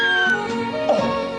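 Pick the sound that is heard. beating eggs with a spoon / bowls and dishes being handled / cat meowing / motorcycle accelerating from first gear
cat meowing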